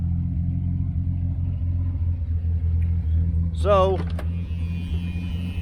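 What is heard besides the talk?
1978 Chevy Nova car driving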